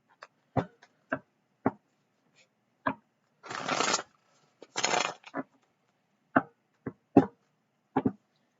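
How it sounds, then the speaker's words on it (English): A deck of cards being shuffled at a table during a zodiac reading: two short riffle bursts sit among sharp, separate taps and clacks of cards being squared and handled, close and fairly quiet with no talking. "I just want to shuffle these up just a little bit more"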